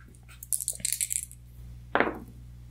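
Dice clatter onto a tabletop during a solo game of One Deck Dungeon: Forest of Shadows, a quick rattle of several bright clicks followed after a pause by one sharper knock, close and unaccompanied.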